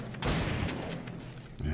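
A rocket launcher fires at a zombie in the survival game 7 Days to Die, Alpha 15, during a night bunker defense; a loud blast hits early, then more thuds and bangs follow over a busy background.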